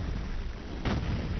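In the video game Duke Nukem 3D a bomb explosion hits as one dull, booming blast partway through, rising out of a steady, noisy game background with no voice.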